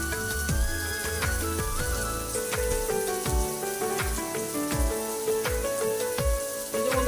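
Potatoes sizzling and frying in a hot pan with salt, a loud steady crackle and hiss with bubbling pops throughout, close up and without talking.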